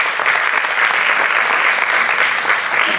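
An audience at a school education conference applauds in sustained, dense clapping that holds steady and loud without pause.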